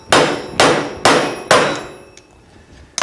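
A hammer striking a socket to seat a front wheel bearing on a Yamaha Raptor, four sharp metallic taps in quick succession, then a pause and a fifth tap, close and loud with no talking.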